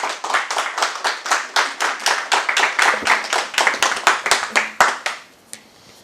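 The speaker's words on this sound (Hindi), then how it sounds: "एक बार जोरदार तालियां संजय जी के लिए।" An indoor audience at a business seminar claps for a speaker in a brisk rhythmic burst of about five seconds, loud and close, then it stops abruptly into quiet.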